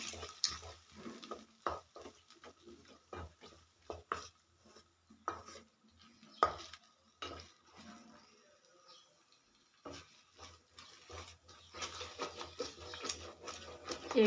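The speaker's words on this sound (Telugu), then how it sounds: "అలాగే ఎగ్స్ కూడా వేసుకునేసి మిక్స్ చేసుకున్నాను." Eggs stirred in a frying pan with a spoon, producing repeated close scraping and clattering strokes in an irregular rhythm, with a soft sizzle beneath and busier stirring toward the end.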